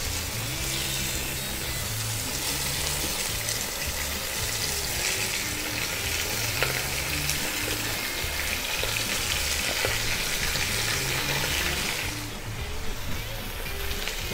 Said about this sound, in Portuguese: Primeiro vamos colocar para selar a carne